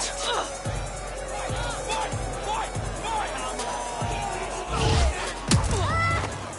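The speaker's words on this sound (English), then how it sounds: "the crowd's roaring for some action" A video game crowd roars at a fight as a steady, dense wall of noise, punctuated by sharp thuds and whacks of blows landing.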